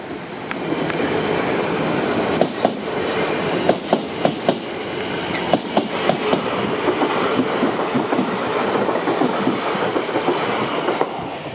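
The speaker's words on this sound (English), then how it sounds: "train on the right just is overtaking the left one now" Two trains run side by side past a level crossing, a loud continuous rumble with sharp rhythmic wheel clicks over the rail joints, close by and steady throughout.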